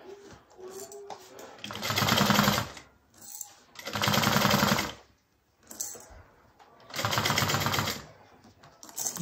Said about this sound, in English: And then I will start sewing now